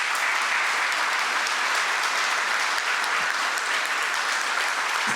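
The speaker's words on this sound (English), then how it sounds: "let's give them a round of applause" Sustained, even applause from an audience honours soon-to-graduate students at a groundbreaking ceremony, a full crowd clapping continuously with no speech on top.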